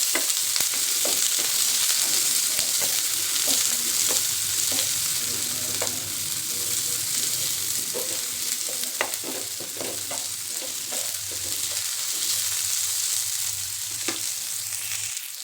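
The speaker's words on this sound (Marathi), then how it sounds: "कांद्याला भरपूर तेल टाकायचं म्हणजे पटकन भाजलं जातं" Onion frying in plenty of oil, a continuous close sizzle with scattered scraping stirs of a spoon against the pan, loud and unbroken with no talk.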